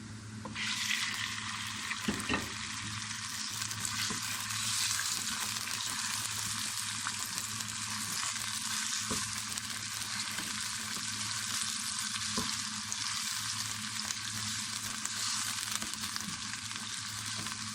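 Boneless chicken frying in a pan with lightly browned onion and garlic gives a steady, loud, close sizzle that runs unbroken, with a few faint stirring scrapes and no voices.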